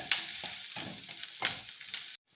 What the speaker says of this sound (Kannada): ಇದೆಲ್ಲ ಚೆನ್ನಾಗಿ ಫ್ರೈ ಮಾಡ್ಕೊಳ್ಳೋಣ